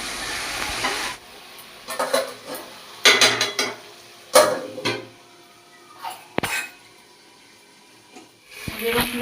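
Mutton pieces frying for curry in a pan, with scattered clatters of a spoon stirring against metal, soft sizzling between, and brief quiet gaps, close by.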